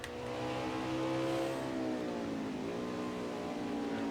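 Race cars at Watkins Glen roar past at a steady high engine pitch that dips briefly and recovers, with several engines layered and loud throughout and no voices.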